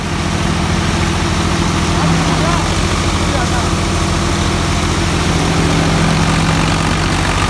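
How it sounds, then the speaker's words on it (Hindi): A farm tractor engine runs steadily and loudly, its low, heavy drone sagging slightly in RPM as a loose drive belt slips under load, holding at a close, constant level throughout. "आरपीएम ड्रॉप मारे ट्रैक्टर ने"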